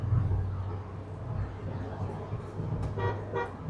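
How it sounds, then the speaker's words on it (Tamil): A Mahindra two-seater car's dual horn toots twice near the end, short bright blasts over a steady low engine hum and road noise inside the moving vehicle. "ஹார்னுமே நல்லா இருக்குது அந்த டுவல் ஹார்ன்"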